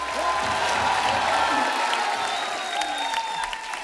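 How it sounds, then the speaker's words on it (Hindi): A studio audience on a comedy talk show claps for Anil Kapoor and Neetu Kapoor. The applause is a continuous, full roar that holds steady and then eases slightly toward the end. "जोरदार तालियां हो जाए अनिल सर और नीतू जी के लिए।"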